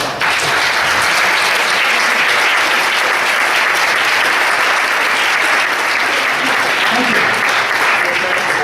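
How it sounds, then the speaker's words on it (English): Conference audience giving Reverend Phil a big round of applause after a plenary session, a loud, dense and sustained roar of many hands filling the hall without pause. "Big round of applause for Reverend Phil"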